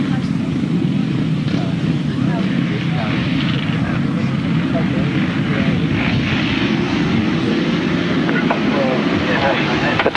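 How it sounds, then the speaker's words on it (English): Several grasstrack racing motorcycle engines roar together at a race start in a dense, continuous drone, rising slightly, heard from some distance with no pauses. "The tapes go, the revs rise, the bikes are on their way to that first turn"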